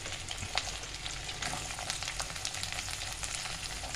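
Ginger, chilli, garlic and onion fry in a hot wok with a steady, dense sizzle throughout, sharpened by a few brief crackles and scrapes of stirring.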